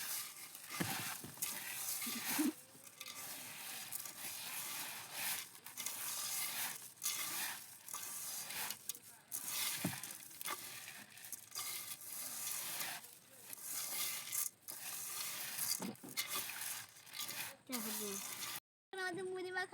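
Puffed rice is tossed and mixed with chili in a bowl, making a steady dry rustling and crackling stir, close and continuous, while a person talks over it.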